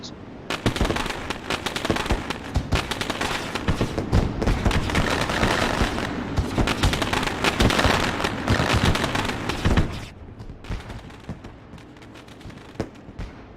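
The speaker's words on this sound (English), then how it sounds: "Fireworks going off to signal the drivers that it is time to go racing" Fireworks at a racetrack burst in a dense, loud, continuous crackling barrage to signal drivers to start racing, popping rapidly for about ten seconds before thinning out into scattered distant cracks.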